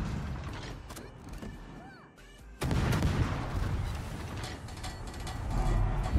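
Battleship Missouri's guns firing in a naval video game, a dense sequence of mechanical clanks and booming blasts, with a heavy burst kicking in partway through and continuing loudly to the end.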